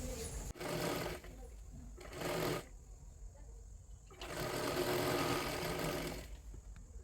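A sewing machine stitches a katori blouse in three bursts of rapid whirring, short ones near the start and a longer run at the end, with quiet gaps between.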